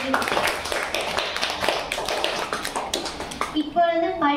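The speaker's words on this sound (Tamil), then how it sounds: "அவர்களுக்கு ஒரு பலத்த கைத்தட்டலை தருமாறு கேட்டுக்கொள்கிறோம்" Applause for a student speaker at a school Children's Day celebration: many hands clap in a dense, steady patter that fills the room, with a voice speaking in over the final moments.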